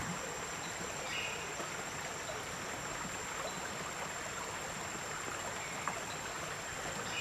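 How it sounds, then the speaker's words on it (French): A continuous, even rush of a flowing tropical stream in Costa Rica, close and steady, with a faint high insect-like tone running through it. "un ruisseau tropical au Costa Rica."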